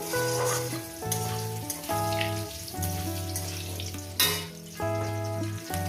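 Potatoes hit hot oil in a frying pan, giving a loud burst of sizzling that settles into steady frying crackle with a few stirring clinks.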